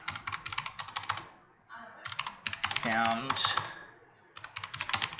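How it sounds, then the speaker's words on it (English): Typing on a computer keyboard, made up of rapid clattering keystrokes in bursts with short pauses between them, close up, with a person speaking briefly in the middle. "I'm just typing off the top of my head"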